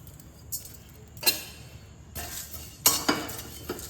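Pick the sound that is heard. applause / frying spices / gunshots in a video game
frying spices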